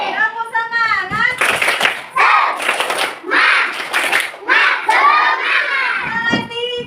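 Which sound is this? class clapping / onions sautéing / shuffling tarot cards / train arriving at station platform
class clapping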